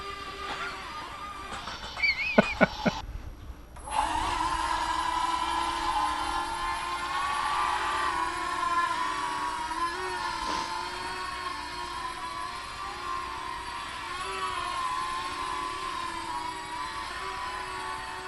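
A small AirHogs Millennium Falcon toy drone whines with a high, steady motor and propeller buzz that fluctuates slightly as it flies, following a few clattering knocks at the start.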